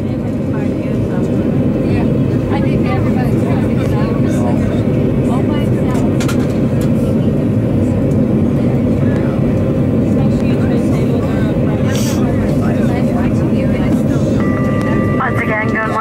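Delta Airlines MD-88 jet cabin before departure, a steady loud low engine and air-system hum filling the interior, with faint cabin noises and chimes over the drone.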